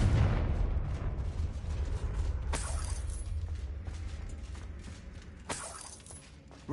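Confringo blasting spell in Hogwarts Legacy, a booming explosion that fades into a rumbling tail, followed by two sharp shattering cracks a few seconds apart.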